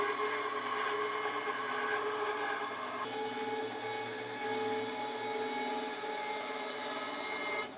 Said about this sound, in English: I'm going to take this board over to the bandsaw and I'm going to cut some gentle curves down the middle of the board.